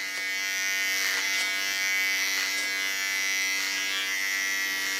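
A small electric hair clipper cuts hair with a steady, close, high-pitched buzz, its tone shifting slightly as it passes over the hair, with no talking.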